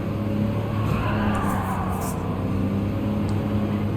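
A BMW M3 with a large rear wing brakes hard in the Gran Turismo 7 racing game, its steady engine drone overlaid by faint squealing tires.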